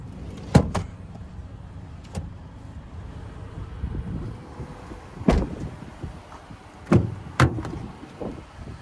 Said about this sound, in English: you can also fold the second row by just pulling up here, and then it scoots up